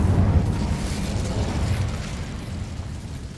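Incendio fire spell cast in the Hogwarts Legacy video game: a sustained, roaring burst of flame with a heavy low rumble that swells at the start and steadily fades over a few seconds.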